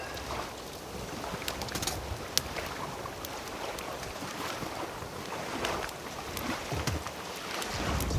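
Steady wind gusting across an open beach at night during a camping trip, a continuous rushing roar with occasional louder buffeting against the microphone, no voices.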